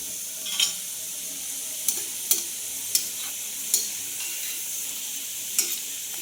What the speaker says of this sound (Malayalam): നന്നായിട്ട് പൊരിഞ്ഞ് വരട്ടെ.